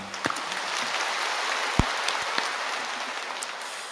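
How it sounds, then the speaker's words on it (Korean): Congregation applause at a Korean church memorial service for the Korean War anniversary, a soft, diffuse patter of clapping with a few sharper isolated claps, fairly distant and steady. "감사와 영광의 박수를 돌리십시다."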